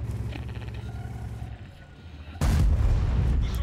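A World of Tanks AMX M4 54 cannon fires in a sudden loud broadband blast about two and a half seconds in, landing over engine rumble and faint game noise.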